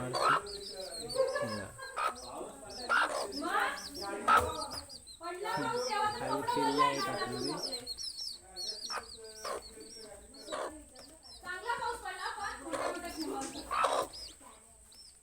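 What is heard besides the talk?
chickens and rooster clucking in village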